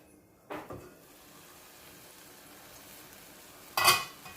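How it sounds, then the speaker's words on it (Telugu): Masala and tomatoes cooking under a lid for dal khichdi: a soft, steady low simmer with a couple of lid or utensil clanks at the start and a sharp metallic clink near the end. "ఒక 5 మినిట్స్ టమాటాలు కుక్ అయ్యే వరకు ఉంచుదాము"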